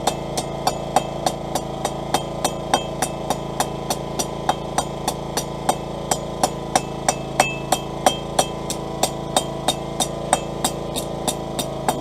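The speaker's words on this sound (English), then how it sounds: "we're just going to just keep rolling it, going hammering away nice, light taps." A blacksmith forges a steel hook with light hammer taps, a steady run of sharp metallic strikes about two per second, close and clear over a constant low background hum.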